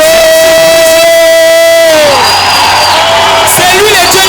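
Evangelical church congregation shouting and cheering during a service: a loud, drawn-out vocal cry gives way to a close roar of many voices yelling and whooping together.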